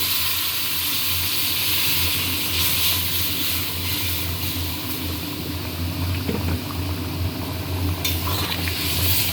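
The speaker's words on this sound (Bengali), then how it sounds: "এবারে গরম জল দিচ্ছি।" Hot water goes into fried spice masala in a pan, producing a continuous bubbling, steaming hiss that stays steady and fairly close throughout, with a brief louder burst near the end.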